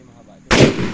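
Rifle shot fired at a marksmanship range: one sharp, loud blast at mid-clip after near silence, followed by a booming, decaying echo.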